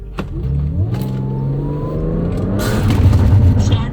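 A car on a wet road pulls away from a standstill up to about 30 km/h, its engine note rising smoothly and getting louder, with tyre noise building toward the end.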